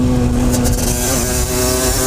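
A 50cc enduro motorcycle being ridden gives a continuous buzzing, revving two-stroke drone, loud and close throughout with slight shifts in pitch.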